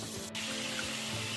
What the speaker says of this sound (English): We'll go ahead and fill those up to cover with water.